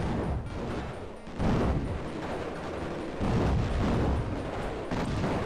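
Missiles explode one after another in the shooter Raptor, repeated loud bursts and rumbling blasts arriving in surges with brief dips between them, no voices heard.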